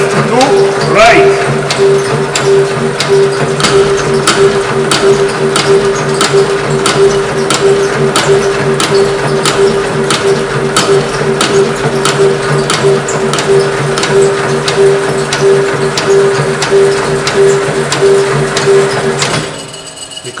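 A reciprocating shaper machine runs with its table traversing left to right, a loud steady mechanical drone with a constant tonal hum and evenly spaced rhythmic clacks of the ram stroke, stopping abruptly at the end.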